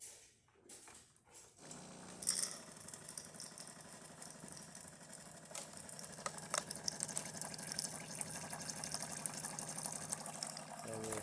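A DeLonghi Magnifica S coffee machine dispenses hot water: a click and brief pause, then a steady hissing, gurgling stream with a low pump hum that builds and holds for several seconds, close by.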